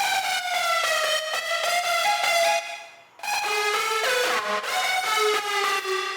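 Big trap lead synth patch built in Ableton's Analog, a bright buzzy harmonic-rich melody playing loud and alone, with a brief dip to near silence midway before the line resumes with gliding, bending notes.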